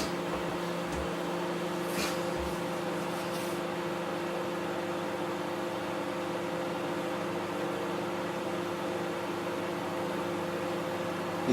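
A grill oven runs steadily for the whole stretch while fish liver cooks inside, a constant low mechanical hum with faint fan noise, close by and alone, with a couple of small knocks near the start.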